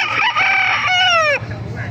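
A rooster crows nearby at a gamefowl market in Baliuag, Philippines, a loud drawn-out call with a falling end, over a low rumble of background noise.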